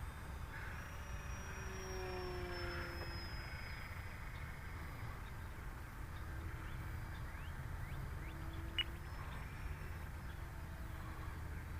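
A radio-controlled Corsair model airplane flies at a distance, its thin engine whine faint and drifting in pitch over a steady outdoor rumble of wind.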